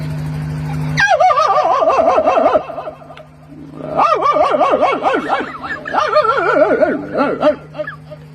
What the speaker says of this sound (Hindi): कुत्ता जो है धमका रहा है कैसे।